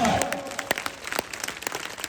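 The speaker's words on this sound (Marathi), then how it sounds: "सर्वांनी टाळ्या वाजवत हात वर करू" A wrestling crowd at an outdoor kusti event breaks into applause, a dense patter of many hands clapping, loud at first and then thinning out over a couple of seconds.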